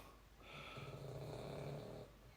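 A dog snores steadily nearby through the whole stretch, a low rasping drone with a higher airy whistle riding over it, loud and alone without talk.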